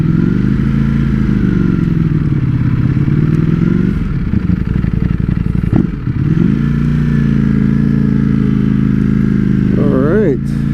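Ducati Streetfighter V4S naked motorcycle being ridden, its engine loud and close, rising and falling in pitch through the ride with a sharp rev near the end, while a rider talks over it.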